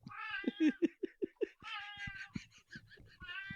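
A cat meows and caterwauls repeatedly, loud and close, in a run of drawn-out cries with short pauses between them, with no talking.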